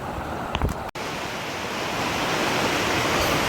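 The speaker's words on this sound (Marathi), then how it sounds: "इथे धबधब्याचं खळखळतं पाणी" Steady broadband rush of water from the Sawatsada waterfall near Chiplun, loud and continuous, with a brief knock near the start and no voices.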